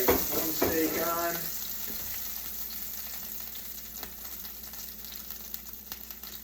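A steak lands in a hot pan with a loud burst of sizzling that fades to a softer, steady frying hiss, with light clinks nearby.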